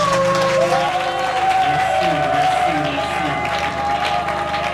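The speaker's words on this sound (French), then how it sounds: "On applaudit très fort le Seigneur" Loud applause from a church congregation blends with cheering and a voice in the mix over sustained music, a dense, continuous crowd sound throughout.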